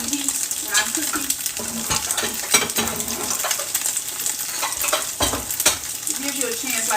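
Tofu steaks frying in a pan over medium heat make a continuous crackling sizzle, with bursts of stirring and a few utensil scrapes against the pan, close and fairly quiet.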